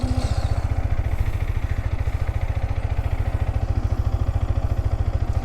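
A 2025 Yamaha MT-15 motorcycle engine idles steadily, a close, even low pulsing thrum with a little wind noise, running alone without any talk.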